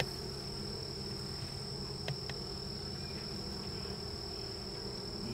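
Honey bees in a horizontal hive give off a steady, close buzzing drone that fills the whole stretch, with a couple of brief faint clicks near the middle and no talking.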